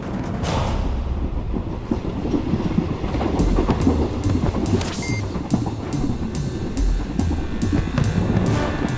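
A train running on rails with continuous rumbling and rhythmic clickety-clack of the wheels, heard steadily from close by inside or beside the moving carriages.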